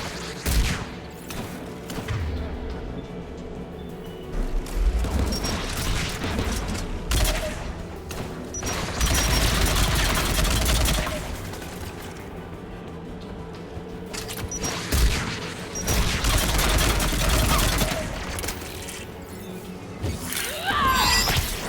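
Anti-aircraft guns firing in Mass Effect 3, bursts of heavy rapid gunfire and booming blasts rising and falling in waves, loud and fairly close over a rumbling battle backdrop.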